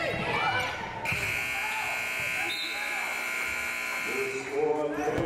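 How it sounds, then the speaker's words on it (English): A long, loud electronic buzzer ends the first quarter of a women's college basketball game, sounding steadily for several seconds in an echoing gym, with crowd noise and bouncing in the background. "The buzzer tells us that the first quarter is over"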